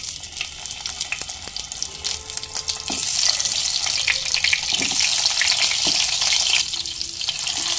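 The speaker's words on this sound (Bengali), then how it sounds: "সরিষার তেল গরম হয়ে এলে পটলগুলো দিয়ে দেব।" Pointed gourd (potol) pieces fry in hot mustard oil with a continuous crackling sizzle. Scraping stirs and small clatters break in now and then, and the frying grows louder partway through.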